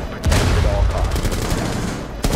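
Gunfire in a shooter video game: a rapid burst of loud, close shots crackling together for about two seconds, followed by another sharp blast at the end.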